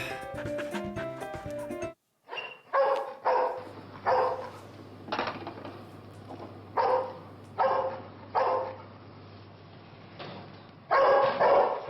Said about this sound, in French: Seven, arrête d'aboyer